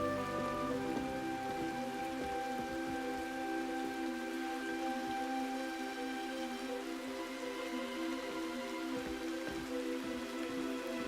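Steady rain falls and patters on surfaces in a movie scene, an even, continuous hiss under a sustained musical score that stays at the same level throughout.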